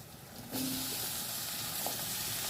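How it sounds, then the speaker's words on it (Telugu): Potatoes for a cauliflower potato curry drop into a hot pan on medium heat and a loud, steady sizzle of frying bursts in suddenly and continues without pause. "ఇప్పుడు కొంచెం మీడియా పెట్టుకొని ఈ ఆలుగడ్డలను అయితే వేసుకోవాలి"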